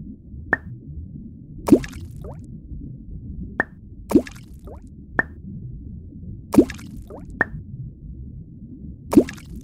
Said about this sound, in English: Let's start our pond by adding rocks.